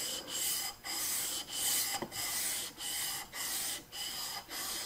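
A steel chisel is pushed back and forth on a Shapton glass sharpening stone, giving a rhythmic series of close, scraping rasps, about seven even strokes with brief gaps between them and no talking.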